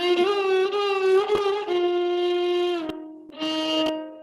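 Carnatic raga Kanada sung or played as a continuous melodic line with sliding gamaka ornaments, a sustained rich harmonic tone bending between notes, a brief pause near the end before the phrase resumes, with no talking.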